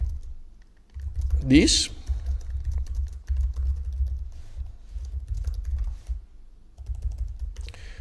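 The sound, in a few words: typing C++ code on a computer keyboard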